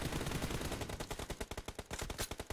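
Rapid automatic gunfire in a duo TDM battle video game, with dense bursts of shots giving way to distinct, evenly spaced cracks that carry loud and close with no voices.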